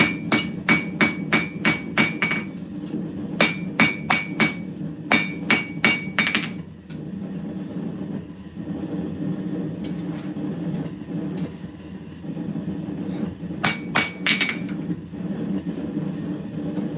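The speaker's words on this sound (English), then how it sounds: "this is the old man hammering on some steel" A steel knife blade is hand forged under a hammer. Bursts of four to six sharp, ringing blows in quick rhythm come close and loud, separated by pauses, over a constant low rumbling hum.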